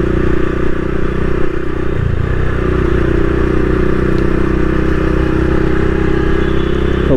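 A motorcycle engine holds a loud, steady drone during a wheelie ride near a petrol pump, with a brief clatter midway and no talking.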